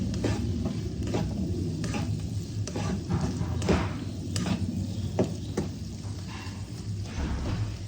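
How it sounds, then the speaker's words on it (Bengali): Poha (flattened rice) sizzles steadily as it fries in a pan, with a spoon scraping and stirring at irregular intervals, close and moderately loud and with no talking. "ভালো করে লাল লাল করে ভেজে নেব।"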